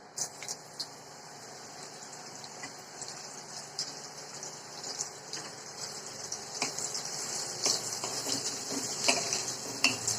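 Chopped carrots fry in a pan of oil for Bengali-style fried rice, giving a soft, steady sizzle with occasional stirring clinks and scrapes of the utensil, fairly quiet and close, with no talking.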